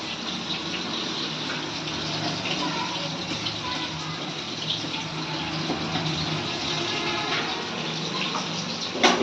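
Water being poured out while cooking fish in a home kitchen, a steady loud gushing stream that runs continuously, with a voice faintly underneath.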